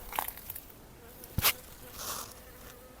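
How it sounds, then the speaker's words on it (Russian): A bee buzzes faintly nearby in brief passes around a fragrant climbing rose, over quiet outdoor garden background with a couple of soft rustles and clicks. "Так, пчела кружится."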